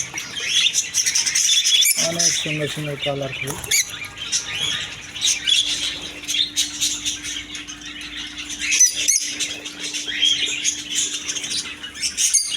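A crowd of lovebirds and budgerigars in a bird shop keeps up steady chirping and squawking, with a quick run of repeated calls early on, while someone talks over the birds.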